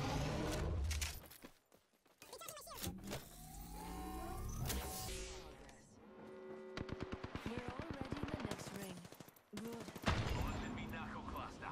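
A video game firefight with rapid bursts of gunfire and booming impacts from an airstrike, dense and loud, with shouting voices over the action.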